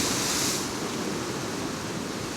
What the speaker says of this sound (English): That's how rough it is.